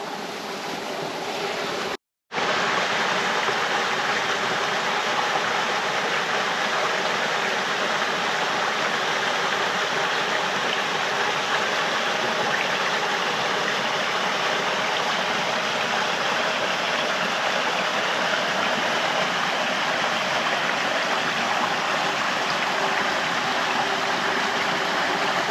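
A brook flows steadily through a forest, giving a dense, continuous rushing wash of water that holds at the same loudness throughout, broken only by a brief cut near the start, with no voices.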